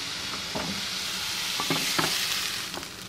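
Beef sizzling and frying in a pan, with a steady broadband hiss and scattered scraping clatters of a utensil as the meat is turned and moved onto a plate.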